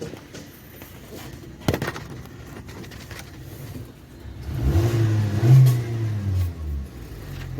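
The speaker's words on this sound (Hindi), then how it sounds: "फाइनली बेबो स्टार्ट हो चुकी है 3 लीटर पेट्रोल पीने के बाद" The Bebo vehicle, a petrol-engine car just refuelled with three litres after running dry: a clank early on, then the engine catches and revs up in uneven surges, fairly close and loud.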